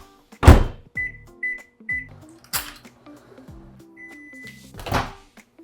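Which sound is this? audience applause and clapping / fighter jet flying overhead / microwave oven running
microwave oven running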